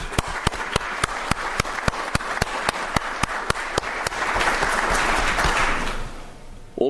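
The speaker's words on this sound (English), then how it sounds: "I want to give them a round of applause." A room full of people at a 2019 State of the City address applauding steadily for several seconds, dense clapping that swells slightly before tapering off, with a few sharp claps standing out near the start.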